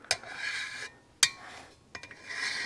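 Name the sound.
light flat draw filing on a motorcycle cylinder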